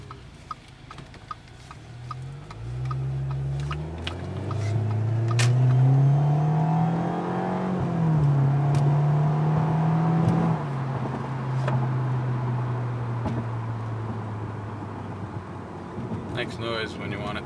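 An Audi A4 with a stainless dual exhaust starts with ticking, then revs up and settles into a deep, smooth idle, heard up close with a voice talking over part of it.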